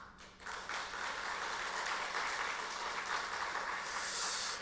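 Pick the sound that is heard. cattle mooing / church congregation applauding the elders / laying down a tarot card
church congregation applauding the elders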